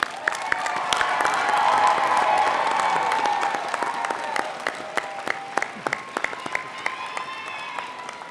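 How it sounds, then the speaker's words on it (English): Commencement crowd at the Oregon Tech Klamath Falls graduation applauding the class of 2025, loud clapping with cheers and shouts that peak early, then thin into scattered claps. "Please join me in congratulating them with a round of applause."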